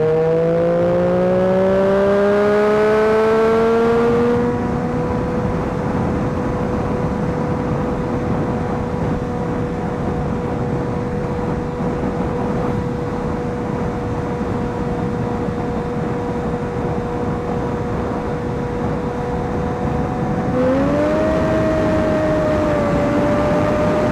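Triumph Daytona 675 motorcycle engine at speed: rising revs through a gear, then a long sustained high-pitched drone with wind rush, followed by another climbing rev near the end, loud and close.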